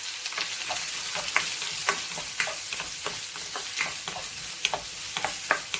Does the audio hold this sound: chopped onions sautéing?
yes